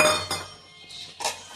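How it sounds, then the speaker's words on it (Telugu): A lid set down on a pot of simmering tamarind stew gives a couple of short, close clinks spaced about a second apart, with no talking. "ఈ విధంగా మూత పెట్టుకుని"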